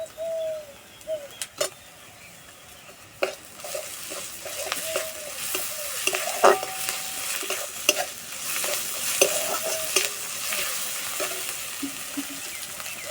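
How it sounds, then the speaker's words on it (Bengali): Ginger-garlic paste frying with chopped onions in a pan, giving a continuous sizzle that grows fuller midway, punctuated by frequent spatula scrapes and knocks from stirring, close up, with faint bird cooing in the background. "এবার দেবো আদা রসুন বাটা"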